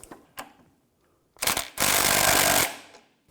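A sway bar link nut is tightened on a 2015-2020 Cadillac Escalade: a couple of faint clicks, then a loud, close mechanical burst of rattling power-tool tightening lasting about a second before stopping.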